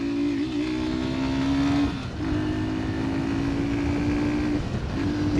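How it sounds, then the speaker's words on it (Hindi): A Hero Super Splendor Xtec 2.0 125cc motorcycle pulls away under steady engine drone, with its pitch climbing and then dropping briefly at each of two gear changes, close and fairly loud with no voices. "अब पिकअप देख लेते हैं थोड़ा सा। अब पहला गियर लगा दिया है मैंने,"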